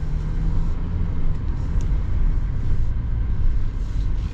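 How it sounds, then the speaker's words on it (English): A 2026 Chevy Silverado 1500 Trail Boss with a diesel engine runs at a steady, close, dense low rumble, even and unbroken throughout with no voices. "Let's see how the Trail Boss performs with the diesel."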